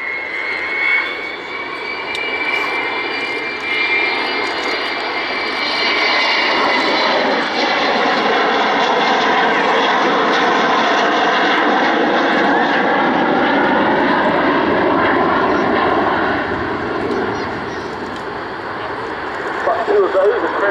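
The Avro Vulcan XH558 flies a display at Waddington, its jet engines giving a loud, sustained roar that rises and slowly shifts in pitch as the aircraft passes, with a commentator's voice over it.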